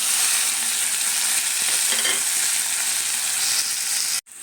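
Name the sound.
fenugreek seeds roasting in a pan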